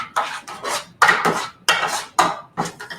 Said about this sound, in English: And give that a quick stir.